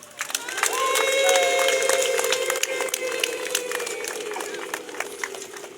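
A crowd at an outdoor Catholic church procession for Divine Mercy Sunday in Kabuga, Rwanda, breaks into sustained applause and cheering with high ululating cries, swelling early and holding steady before easing slightly.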